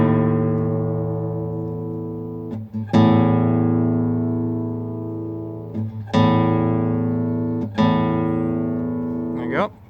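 Guitar 6th and 5th strings sounded together as a perfect fourth, plucked three times with sustained ringing tones between brief squeaky string handling noises, close and without talk.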